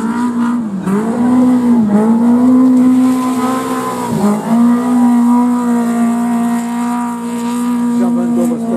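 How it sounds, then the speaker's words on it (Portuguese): A rally car at the Baja Portalegre in Ponte de Sor roars past close by, engine revving and shifting in loud sustained waves. "já estou a ouvir o motor do quarto veículo a passar aqui em Foz do Domingão"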